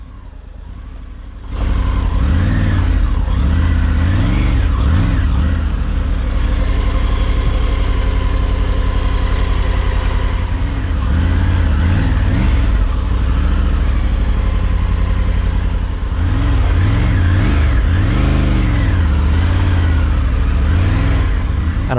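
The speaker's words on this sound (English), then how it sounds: "I was surprised how well the bike handled running through this pretty much virgin forest" A Triumph Tiger 900 motorcycle rides through dense virgin forest, its engine running steady and loud throughout, with revs rising and falling as the bike works over the rough terrain.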